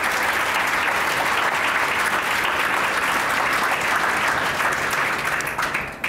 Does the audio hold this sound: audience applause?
yes